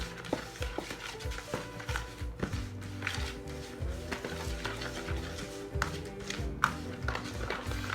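A spoon stirs sugar into coconut dumpling ingredients in a bowl, making repeated scraping and clinking taps in an irregular rhythm, close and moderately loud.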